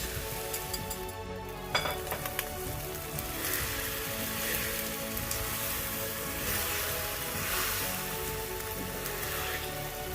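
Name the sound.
eggs poured into hash browns in cast iron skillet, sizzling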